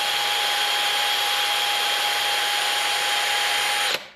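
A power drill spins a wire brush to clean a Ford 8N tractor flywheel, giving a steady, high whine that runs for about four seconds before stopping abruptly.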